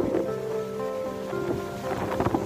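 A strong windstorm in Ahmedpur Sial roars as a dense, continuous rushing gust noise, loud and close, with rattling bursts rising and falling throughout.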